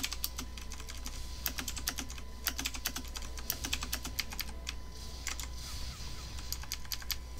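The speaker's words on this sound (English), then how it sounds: "You can hear my keyboard, which I know you can." Computer keyboard typing up close, a rapid irregular stream of sharp clicks and key taps running throughout over a low steady hum, with no talking.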